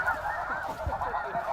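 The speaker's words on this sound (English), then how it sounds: "Here's all the geese, pile of them out front." A large flock of snow geese honks in a dense overlapping chorus out in front of a hunting blind, near and continuous.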